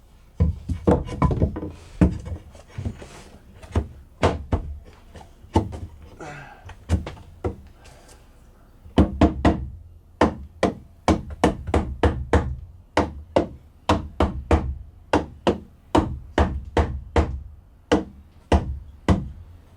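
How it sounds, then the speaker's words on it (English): Hammer blows strike wooden support boards being fitted under an RV bed, in uneven bursts, then settle into a steady run of sharp, solid knocks close by. "So I knew I'd have to hammer them into place."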